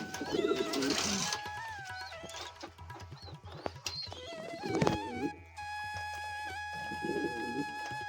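Domestic pigeons cooing around a nest where three pairs are sitting on eggs, with repeated soft coos and throaty calls over a steady background hum, fairly close and continuous.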